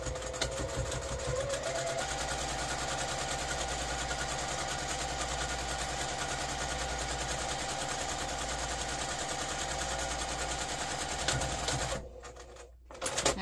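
A sewing machine stitches fabric in a rapid, steady mechanical whir of the needle, running continuously up close before stopping near the end with a few brief handling clicks.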